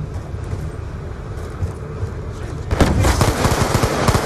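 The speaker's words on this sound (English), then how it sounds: "I just shot at a guy like 15 times" Rapid gunfire in a first-person shooter video game kicks in partway through, a dense burst of repeated shots following a stretch of lower game ambience.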